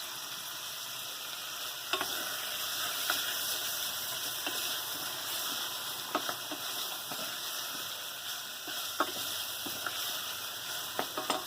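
A saucepan of sausage and vegetable curry sizzles and fries with a steady crackle, while scattered sharp clicks and taps of stirring cut in at irregular moments. The sound is moderate and close, with no talking.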